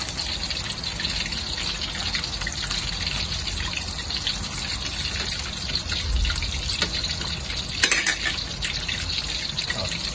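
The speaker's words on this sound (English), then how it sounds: "Now fry this for about 5 minutes" Nam yu marinated chicken wings deep fry in a wok of oil, giving a constant loud bubbling hiss with scattered crackles and pops that runs steadily throughout.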